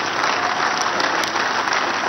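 A church congregation at a special blessing service during a 21-day fast claps steadily and loudly, a dense, continuous wall of applause from a large crowd.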